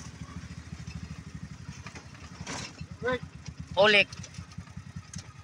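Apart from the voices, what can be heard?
motorcycle engine idling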